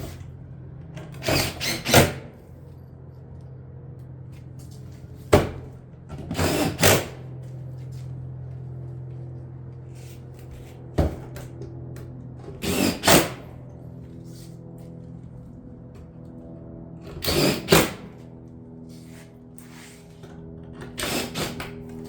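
Roofing panels of Cottage-style shingle being fastened on a roof, heard as sharp, loud clusters of clanging impacts, often in quick pairs or triplets, separated by quieter pauses with a low steady hum underneath.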